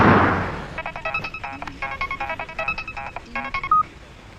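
A telephone being dialed, a rapid run of close, evenly spaced keypad tones beeping one after another for several seconds, with no one talking over them.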